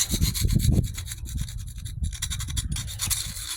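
A hand tool scraping calcium buildup off a pool tile, loud repeated rough rasping strokes in quick succession, close up with no talk.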